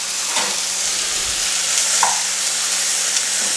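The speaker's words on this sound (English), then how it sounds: "Now that the onions are translucent, we are going to stir in our peppers." Peppers are stirred into translucent onions frying in a pan, with a steady close sizzle and a few soft scraping stir strokes over it, no voices.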